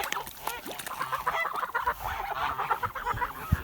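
Kholmogory geese honk repeatedly at close range, a busy overlapping flock of nasal calls with a few louder bursts standing out.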